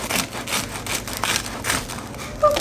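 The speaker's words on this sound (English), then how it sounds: "Get some knife. And then I'm just gonna go ahead and cut this up." A kitchen knife cuts food on a cutting board in a home kitchen, a series of regular scraping, chopping strokes close by.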